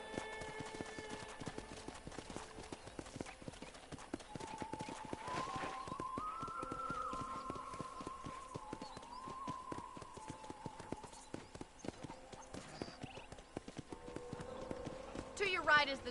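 Rhythmic hooves clip-clopping at a gallop in the video game Red Dead Redemption, steady and fairly close, with a whinny and game music and voices running underneath throughout.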